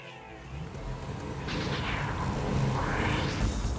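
A 1998 Subaru Impreza STi is driven, its engine a muffled, continuous drone with road and wind rush heard from inside or nearby, swelling gradually louder.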